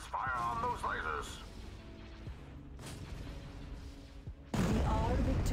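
Laser fire and blasts from a Star Wars space battle game against a Super Star Destroyer, booming impacts and crackling shots under a voice, with a loud burst of combat noise near the end.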